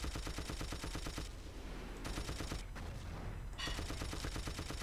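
Rapid gunfire from the video game Battlefield 1942 hammers away in dense, overlapping bursts, loud and continuous, easing briefly mid-stretch before the heavy rattling barrage returns at full strength.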